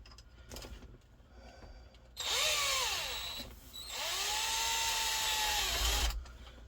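Power drill driving a fastener on a tachometer of a 1971 C20 truck, two bursts of whirring with a pitch that rises and sags under load, separated by a short pause, close and fairly loud.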